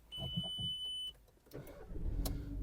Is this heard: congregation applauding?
no